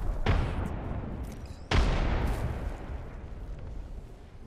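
Two heavy grenade blasts in the Apex Legends video game, the first near the start and a louder one about a second and a half later, each a sharp boom trailing into a long rumbling decay.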